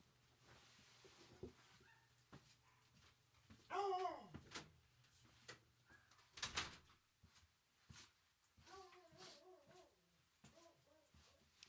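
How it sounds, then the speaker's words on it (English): A quiet room with a few soft knocks and thumps, a door shutting around the middle, and muffled dog barks in between. "Let me actually go close the door."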